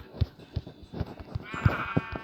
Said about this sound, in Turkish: Hemen şuradan koyunumuzu öldürelim. Koyun gel buraya.